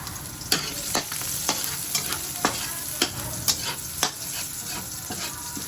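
Onion hits hot oil with garlic in a pan for a pork dish, giving a steady close sizzle broken by sharp utensil scrapes roughly every half second, with no voices.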